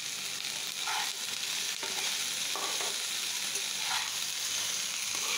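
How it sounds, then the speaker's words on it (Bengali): Sliced onion sizzles gently in a pan with a sprinkle of turmeric powder, a steady, moderately loud hiss broken by soft stirring sounds. "পেঁয়াজটা বেশি ভাজবো না, হালকাই ভেজে নিলাম। একটু দিয়ে দিলাম হলুদের গুঁড়াটা।"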